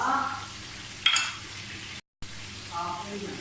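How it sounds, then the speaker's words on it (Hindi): Garlic, ginger and green chilli paste frying in a hot pan, giving a steady close sizzle with a brief stirring scrape and a short cut to silence partway through. "लहसुन, अदरक और हरी मिर्चों का पेस्ट डाल दें।"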